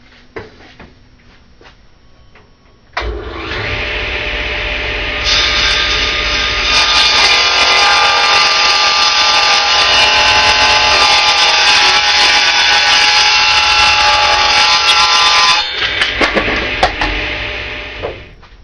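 A power saw cuts through a 1/4 inch lauan plywood back panel, a loud, steady whining roar lasting about twelve seconds before winding down, with no talk over it.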